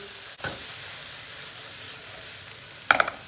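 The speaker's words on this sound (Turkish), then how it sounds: "Yağımız ısınmaya başladı. Hemen soğanını ilave ediyoruz. Soğanı şöyle bir kere karıştırıyoruz." Onion sizzles softly in hot oil in a pan, a faint steady frying hiss with a couple of scraping stirs, the last one near the end, with no talk.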